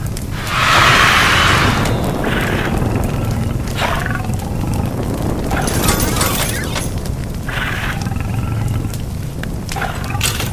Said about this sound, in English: Oh, he does breathe fire.